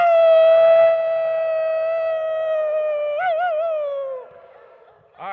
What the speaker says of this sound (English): on the count of 3, taking a deep breath and let out a howl.